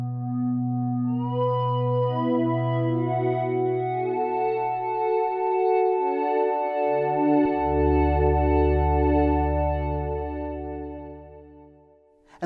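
Sustained harmonic tones from a Korg minilogue xd synthesizer swell and shift in pitch, smeared by a lush, modulated riser reverb that builds steadily, then cuts off abruptly at the end.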